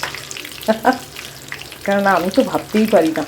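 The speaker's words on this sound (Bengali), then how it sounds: "ভাজা চলছে, এতখানি তেল দেখে আমার মাথা ঘুরছে জানো" Fish fries in a large amount of hot oil, giving a steady sizzle beneath someone speaking at close range.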